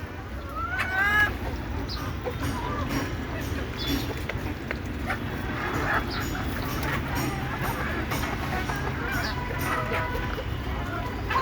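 Native desi hens clucking in a busy yard, several birds overlapping, with constant background noise and occasional voices throughout.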